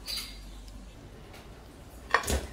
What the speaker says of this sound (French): on va couvrir avec notre couvercle